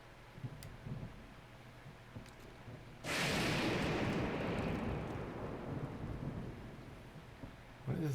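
A game thunderstorm breaks with a sudden loud thunderclap from lightning, then a long rolling rumble with rain-like hiss that slowly fades. It follows a few quiet seconds of ambient clicks and soft thuds.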